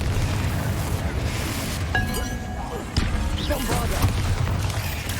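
Confringo fire-blast spells explode in Hogwarts Legacy: booming bursts with glassy clinks and crackling shatter, one sharp impact near the three-second mark amid dense game noise.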